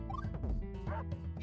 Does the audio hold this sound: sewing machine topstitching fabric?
no